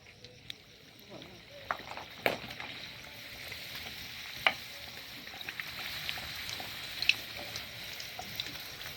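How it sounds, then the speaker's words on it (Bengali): Green pea kochuri fry in hot oil with a low, steady sizzle broken by faint crackles and pops, with quiet voices in the background. "তেল গরম হয়ে গেছে প্রথমে সানি যে দুটো তার জন্য বেলে ছিল সেটাই আগে প্রথমে দিয়ে উদ্বোধন করব"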